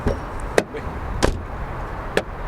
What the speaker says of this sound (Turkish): Nereden bahsedeceğiz Şefki bak kapı sesinden bahsedelim.